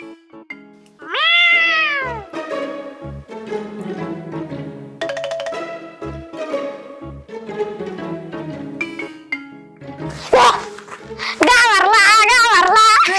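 A person secretly imitates a cat, giving several drawn-out meows by voice amid scattered clinking and melodic background music, with a louder wavering caterwaul near the end.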